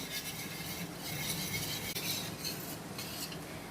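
A spoon steadily stirs cornflour into a boiling Karachi halwa mixture in a pot, giving a continuous scraping, bubbling sizzle with faint metallic rubbing, close and even.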